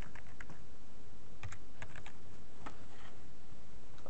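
Someone types on a computer keyboard during a lecture: scattered, irregular key clicks over a steady hiss of room noise, faint and close, with no voices.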